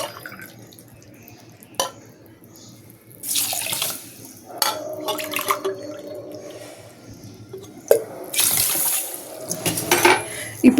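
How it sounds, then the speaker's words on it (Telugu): Water poured from a glass onto sugar in a pan while making lemon squash, two short bursts of splashing pour separated by quiet handling clinks, near and fairly loud. "కరెక్ట్గా 2 గ్లాసులు వాటర్ వేయాలండి"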